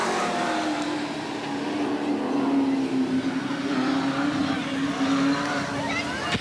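Several race cars roar around Eugene Speedway oval track in a 1990 race, a steady loud engine drone with rising and falling pitch as cars pass, under continuous race commentary.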